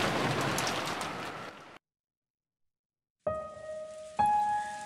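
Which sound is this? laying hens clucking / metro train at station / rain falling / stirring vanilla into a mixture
rain falling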